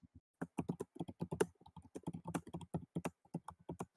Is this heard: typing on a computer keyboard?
yes